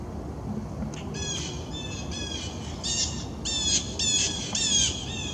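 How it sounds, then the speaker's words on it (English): Birds flying overhead outdoors on a residential street, giving a series of harsh, repeated squawking calls that grow louder and more frequent over a steady background hum. "Birds flying right over me."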